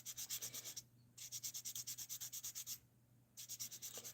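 Sandpaper rubs rapidly back and forth over a model being sanded by hand, quiet, close rasping strokes in three rhythmic runs with short pauses between them.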